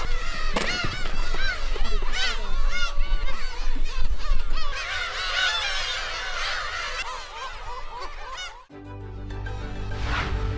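A black-tailed gull breeding colony on an uninhabited island fills the air with dense, overlapping cat-like calls and honking cries from many birds. The din runs for about eight seconds, then breaks into wind noise and a few scattered calls.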